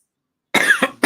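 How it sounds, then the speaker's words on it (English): A person coughs twice in quick succession after a stretch of silence: a longer, harsh close-up cough followed by a short second burst, with no talking. "Just like my cough. We're bringing it back."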